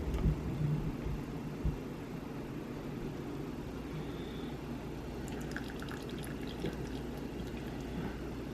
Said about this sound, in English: I'm gonna add the coconut milk